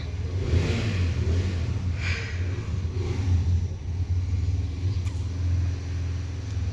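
A car engine idles and revs nearby with a steady low rumble, rising and falling slightly throughout, no voices.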